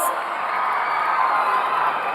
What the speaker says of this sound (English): A huge round of applause